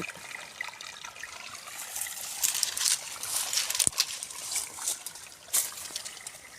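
Water trickles and gurgles steadily as it drains out of an irrigation pipe in a garden, a continuous splashy hiss with a few louder spurts.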